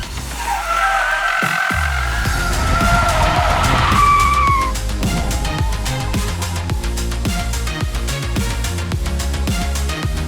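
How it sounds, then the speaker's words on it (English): A Ford EcoSport is driven hard around a tight track, its engine roaring loud and close with a shrill tyre squeal during the first few seconds, then a continuous strained drone as it powers on. "It's amazing how nimble and agile this EcoSport really feels around this tight track."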